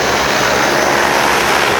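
Agricultural crop-spraying drone flying over rice paddies, a steady loud propeller whine and hum filling the whole stretch without a break, close by and with no talk over it.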